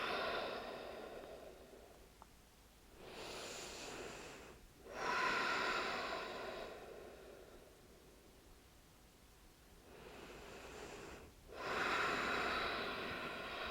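Slow, deep breathing held in a yin yoga pose, two long airy inhale-exhale cycles with quiet pauses between, close and soft with no talking.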